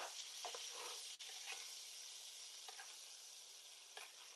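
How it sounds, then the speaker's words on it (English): Fish sizzles in a pan while being basted with butter, a steady, bright frying hiss throughout with faint spoon-like scrapes and splashes now and then, quiet and close. "give it some little bit of basting action. Get us a nice, beautiful, buttery fish."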